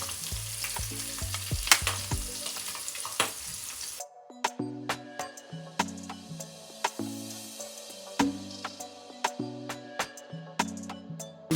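An egg fries in butter in a pan, a busy crackling sizzle that drops to a quieter, steady spatter partway through, punctuated by light scraping and tapping of a utensil against the pan, close and clear with no talking.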